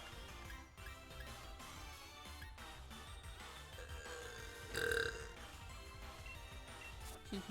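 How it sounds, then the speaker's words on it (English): A single burp rises briefly out of a steady bed of background noise during a Pokémon shiny-hunting session, with no talk over it. "I've been keeping up with my burps today."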